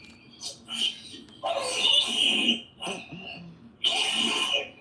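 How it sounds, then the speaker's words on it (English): A baby coughs several times in rough, wet bursts, with short pauses between fits. "See, he coughed it all up."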